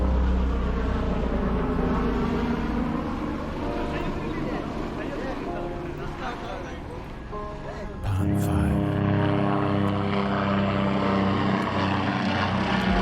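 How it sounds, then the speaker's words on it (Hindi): Steady propeller-like drone of a helicopter flying overhead at a sightseeing spot, loud and continuous, with a sharp change in pitch and level midway, heard under talking. "इस जगह का व्यू अगर आपको ऊपर से देखना है तो आप हेलीकॉप्टर राइडिंग भी यहाँ कर सकते हैं।"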